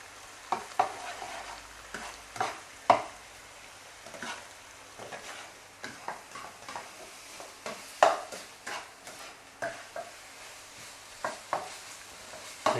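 A spatula stirs pineapple fried rice with prawns, chicken and eggs in a hot pan, giving repeated scraping strokes at an irregular rhythm over a soft sizzle, close and fairly quiet.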